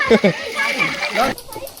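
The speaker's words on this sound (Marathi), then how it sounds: "पाणी साठवून त्या मस्तपैकी सुंदरपैकी उडी मारत आहोत" Water splashes as people jump into a village dam reservoir, two sharp splashes early on followed by children's voices and excited chatter over moving water.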